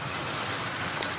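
Heavy rain pours down steadily outside beside a van, a dense continuous hiss of drops on surfaces with no gaps, fairly close and even in loudness throughout.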